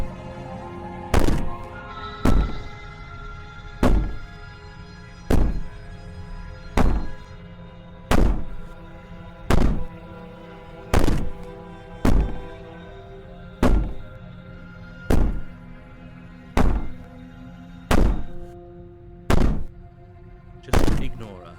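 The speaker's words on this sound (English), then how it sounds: "Maybe the banging and wailing will stop if you just don't pay attention to it." Slow, heavy banging repeats roughly every one and a half seconds in the Slay the Princess video game, each thud loud and close, with a drawn-out wailing tone sustained between the blows.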